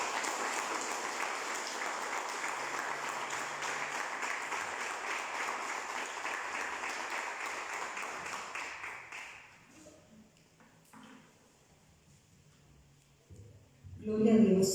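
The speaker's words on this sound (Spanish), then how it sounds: "aplauso al Señor fuerte" A church congregation claps loudly and steadily for about nine seconds. The applause then thins out to near quiet, and a few scattered sounds and a brief louder burst come at the end.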